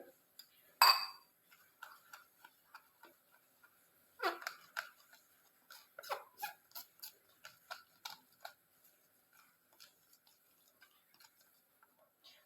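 Black tea being stirred together with powdered hair dye ingredients in a bowl, giving a sharp initial clink followed by a steady series of small tapping, scraping clicks from the utensil.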